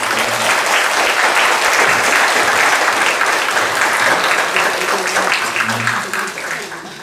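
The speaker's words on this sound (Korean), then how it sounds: "박수로 맞아주시기" A large church congregation applauds steadily, a dense wash of clapping that holds loud for several seconds before tapering off at the end.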